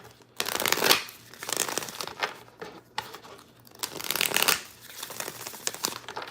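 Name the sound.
oracle cards being shuffled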